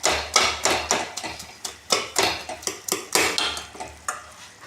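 A ladle stirs cooked ridge gourd (kali tori) sabzi, made without tempering, in a cooking pot, giving a steady rhythm of about a dozen close, sharp metallic clinks and scrapes with no talking.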